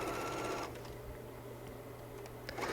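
A sewing machine top stitches the folded pocket seam of a pullover hoodie, a steady close mechanical whir that runs alone through the clip and picks up slightly at the end.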